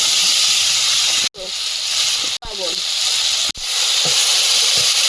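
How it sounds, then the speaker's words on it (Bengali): Potatoes fry in hot oil with a loud, steady sizzle and hiss, broken by three brief sharp cuts where the sound drops out. "আলুটা ভেজে নেবো"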